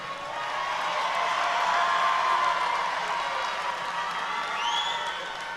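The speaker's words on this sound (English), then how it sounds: "One more big round of applause for our graduates." Large crowd applauding graduates at the Dougherty Comprehensive High School Class of 2021 graduation ceremony, a steady, dense wash of clapping with a few scattered whoops and cheers rising near the end.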